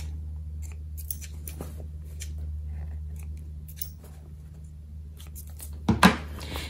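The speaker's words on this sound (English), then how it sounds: "Trim your extra threads." Small scissors snip loose threads off a sewn quilted fabric basket in a quiet room, with a few faint cuts and then a sharper, closer double snip near the end.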